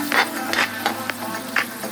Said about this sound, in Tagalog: umpisahan na po natin ang pagigisa ng bawang,